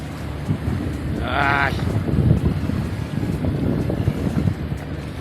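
A tugboat on the Chao Phraya River gives a steady low engine rumble, buffeted by heavy wind noise, with one short higher tone rising briefly above it early on.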